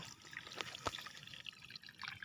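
Water trickles out through a rice paddy dike in a faint, steady dribble with a few small drips and splashes, quiet and close with no talk.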